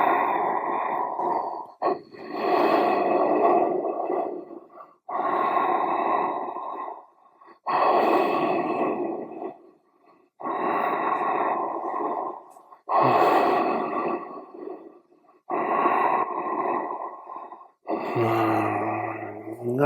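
Slow, deep breaths in and out during a spinal twist exercise, heard close and clear as eight long, even airy swells separated by short silences, with no speech.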